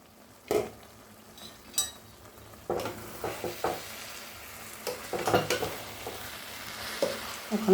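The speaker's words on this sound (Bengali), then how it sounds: "চাল আর ডালের সাথে সবজিটা ভালো করে একটু কষাতে হবে।" Rice, lentils and vegetables stir-fried for khichuri in a pot, with a spoon scraping and stirring in repeated strokes over a soft, steady sizzle, close by and with no talking.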